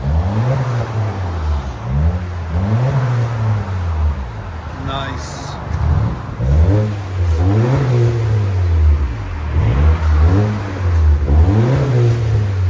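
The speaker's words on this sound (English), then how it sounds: "Honda Accord Turbo muffler delete. Nothing crazy, just a clean deep tone." A 2021 Honda Accord 2.0L turbo with a muffler delete revs repeatedly, its deep exhaust tone rising and falling in loud, close rhythmic pulls, with a brief spoken word in the middle.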